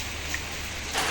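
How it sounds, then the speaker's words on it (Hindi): Steady rain pours outdoors on a hot, cloudy afternoon, a continuous even hiss of moderate loudness with no voices, briefly swelling brighter near the end. "आखिरकार बारिश आ ही गई।"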